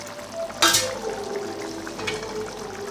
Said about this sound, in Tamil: நல்லா கொதிச்சிட்ருக்கு.